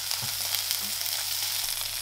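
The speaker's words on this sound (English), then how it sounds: "put some olive oil in. And we'll start cooking these sausages" Sausages sizzling in olive oil in a frying pan, a steady close crackling hiss with tiny pops and no talk.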